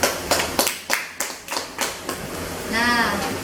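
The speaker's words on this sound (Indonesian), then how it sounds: "Tepuk tangan juga untuk Ririn" Hands clapping in a classroom as students applaud a classmate, with around nine uneven claps spread over a few seconds and a brief voice near the end.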